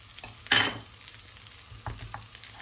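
Eggs and potatoes sizzling softly in a frying pan, with one sharp scrape of a utensil stirring them gently and a fainter stir a little later over a low, steady fry.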